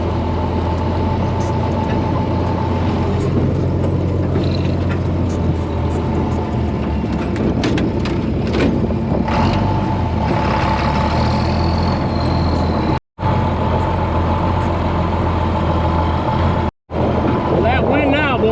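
On a dairy farm in cold weather, a feed mixer truck's engine rumbles steadily and fairly close, with constant low droning, wind and scattered clanks; two brief dropouts interrupt the sound.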